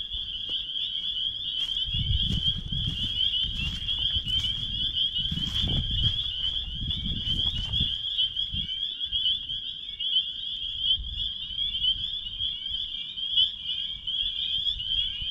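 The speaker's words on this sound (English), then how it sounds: "Wow, these peepers are loud." Spring peeper frogs at a beaver pond call loudly and nonstop in a dense chorus of shrill, high peeps, with occasional low rustling and footsteps nearby and no speech.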